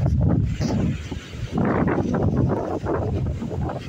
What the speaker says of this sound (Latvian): Bet vējš stipras ir.